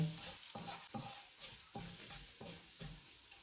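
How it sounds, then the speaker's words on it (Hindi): Cumin and crushed coriander crackle and sizzle in a hot pan while a spoon stirs in a steady rhythm, scraping every half second or so. "इनको भी 30 सेकंड तक भूनेंगे"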